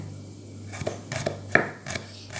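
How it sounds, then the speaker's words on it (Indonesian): Knife cutting thin slices of shallots on a board while preparing sambal matah with chilies and lemon, a few sharp, irregular chopping taps close by with quiet pauses between, no talk. "Bawangnya diiris tipis-tipis."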